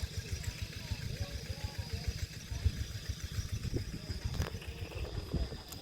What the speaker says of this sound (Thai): เขาจะใช้รถไถน้อยได้ท่านผู้ชม